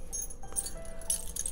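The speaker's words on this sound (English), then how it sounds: "he has a jingle bell" Small jingle bell shaken briefly, a few light metallic tinkling jingles in quick bursts, close and fairly faint over quiet room tone.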